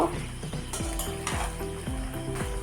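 Spices with ginger paste and coriander powder stir-frying in a pan for mango pickle: a close, continuous sizzle with soft stirring scrapes, under a steady hum of tonal background sound.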